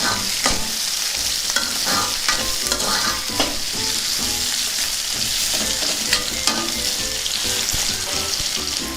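Amla pieces, green chilies, cumin and tamarind frying in a pan, a loud continuous sizzle with repeated scraping strokes as the mixture is stirred, with no talking.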